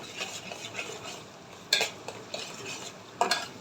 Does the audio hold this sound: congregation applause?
no